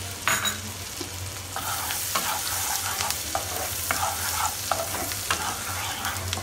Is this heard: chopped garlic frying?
yes